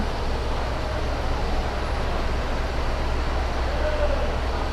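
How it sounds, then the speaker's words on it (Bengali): Train pulling out of a station in Faridpur, Bangladesh, a steady low rumble and rolling rail noise that stays constant and fairly close throughout. "তো ট্রেন ছেড়ে দিয়েছে"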